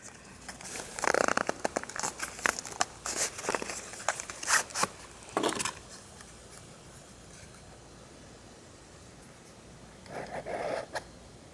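Cardboard packaging of a Litesam ED08 flashlight being opened: a string of close crinkling, tearing and rustling bursts for several seconds, a long quiet stretch, then a short final rustle.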